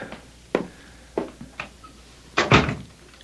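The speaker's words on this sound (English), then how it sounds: "Can I come in and shut the door?" A door shutting in a 1970s radio mystery drama: a few soft knocks and handling thuds, then one louder, sharper closing thump near the end, heard on its own without talk.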